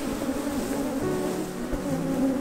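Steady droning buzz of many bees, continuous and fairly close, with a low humming tone throughout and no voices.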